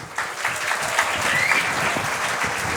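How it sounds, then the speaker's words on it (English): A crowd claps steadily and fairly loudly for a few seconds, a dense continuous patter of applause. "Clap for her, please."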